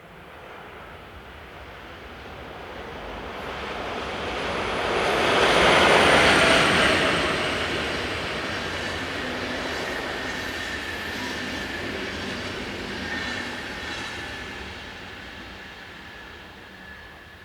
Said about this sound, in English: It's now time for some Class 420 action, as number 11143 heads east, with the 1603 from Zurich to Chur.